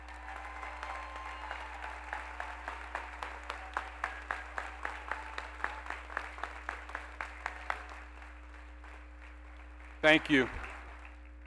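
Thin, evenly spaced claps from a graduation audience at a high school ceremony tap along in a steady rhythm for several seconds, then die out before a brief spoken thanks over a faint background hum.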